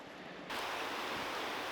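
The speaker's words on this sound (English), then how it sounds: "The little creek is nice too because you can hear the water going." A little creek flows at a campsite as a steady, soft rush of water, faint and continuous after a brief quieter start, with no voices.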